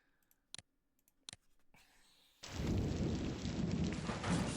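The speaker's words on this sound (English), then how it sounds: "It's raining." Rain and thunder in the wartime strategy game Strategic Command WWII: World at War, where a couple of sharp clicks and a rumble give way to a sudden, steady wash of heavy rain noise.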